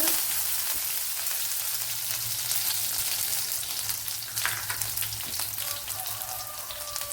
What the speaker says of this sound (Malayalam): ഒരു പത്ത് വെളുത്തുള്ളി അരിഞ്ഞ് വെച്ചിട്ടുണ്ട് അത് ഇട്ട് കൊടുക്ക